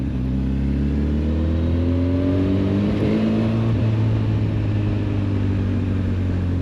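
A 2025 Honda CB 1000 Hornet SP motorcycle revs hard, its engine note climbing and holding through the rev range, loud and close, with no one talking.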